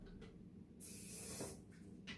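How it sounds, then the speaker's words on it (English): A can of hairspray sprays briefly into a jar for a cloud-in-a-jar experiment, giving one close hissing burst of under a second, with softer handling noises around it. "So I'm going to lift the lid and spray it down in fast and put the lid back on."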